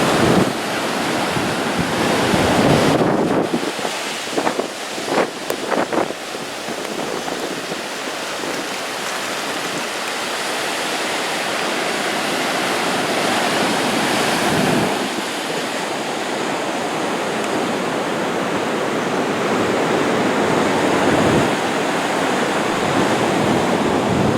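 Ocean surf pounding a Florida beach at Indian Rocks during Hurricane Hermine, a continuous loud roar of breaking waves with heavy wind buffeting the microphone throughout, no voices.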